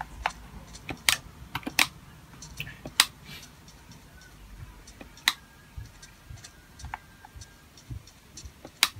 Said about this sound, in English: Clicking on this controller is annoying.